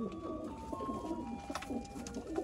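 Pigeons coo softly nearby, low overlapping burbling calls rolling on continuously, with a few faint chirps from other birds in the background.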